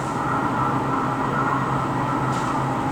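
Warsaw metro train at Stadion Narodowy station, a steady low rumble and hum of the train running through the underground station, continuous and fairly loud with no talk.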